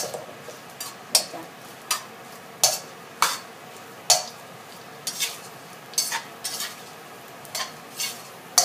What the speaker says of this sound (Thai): ทอดคุณเชี่ยงเนี่ยต้องต้นบ่อยๆค่ะ